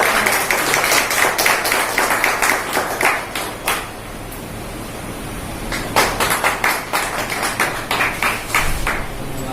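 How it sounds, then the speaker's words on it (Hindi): An audience at an indoor honouring ceremony gives loud, sustained applause of dense rapid clapping that briefly thins, then swells again, with no voices. "क्या बात है, जोरदार तालियां,"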